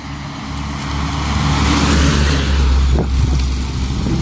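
A road vehicle drives past close by, its engine and tire noise swelling to a peak mid-pass and then easing away, with no one speaking.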